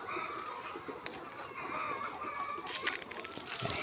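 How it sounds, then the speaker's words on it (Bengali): Village chickens cluck and crow above a fish pond, with scattered calls and a drawn-out crow at moderate distance over steady rustling background noise. "মুরগি ডাকাডাকি করতেছে।"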